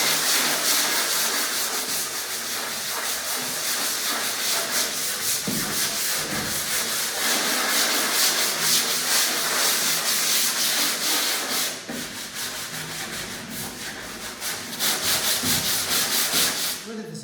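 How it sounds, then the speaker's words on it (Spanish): Sandpaper is rubbed by hand across a large wooden board in steady back-and-forth strokes, a loud, close, raspy scratching that continues with brief pauses and shifts in rhythm. "Bueno, volvemos al lijado."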